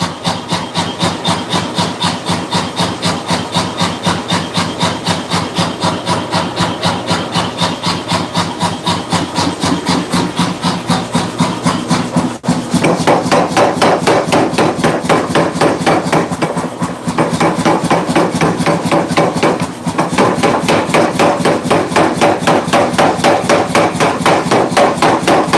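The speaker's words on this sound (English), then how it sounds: "And then I'm going to put a kiss block in the hammer." Power hammer fitted with a kiss block flattening hot metal stock to a uniform thickness in a blacksmith shop, a loud, rapid, relentless train of metallic blows that continues for the whole stretch with brief pauses.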